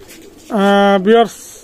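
A female Pakistani Aliwala KTM pigeon gives one loud, close two-part coo, a long throaty note followed by a shorter rising one, against a quiet background.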